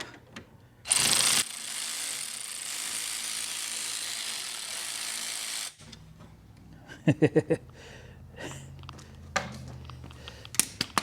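A ratchet working a 10 mm bolt on a 2012 Nissan Altima SR V6 gives short bursts of quick metallic clicks after a long stretch of steady background noise, close and fairly clear.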